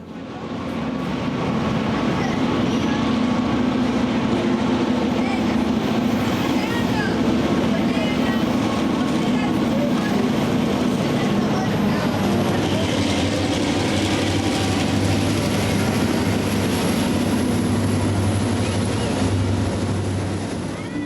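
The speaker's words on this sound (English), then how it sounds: "The KCT Blue River turned with a Bumblebee GP35R leading." A KCT train led by a Bumblebee GP35R locomotive rolls past in Kansas City, a loud, steady rumble of engine drone and wheels on rail lasting the whole span, with no horn.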